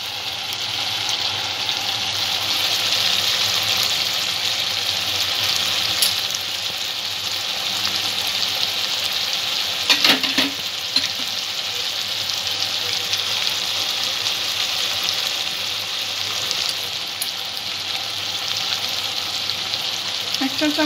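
Onion, ginger, garlic and tomato sauté for Bengali-style chicken ghugni, a steady loud sizzle of frying that runs unbroken throughout, with a brief scraping stir near the middle.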